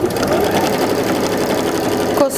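A sewing machine runs steadily, stitching a quilt block of fabric scraps, with a close, continuous whirring hum that ends with a brief stop near the close.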